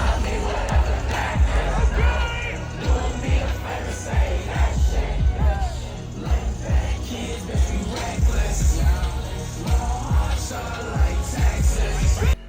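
A stadium crowd at the Summer Smash festival roars, whoops and shouts as a DJ hypes them up, their cheering continuous over thumping bass beats of the set.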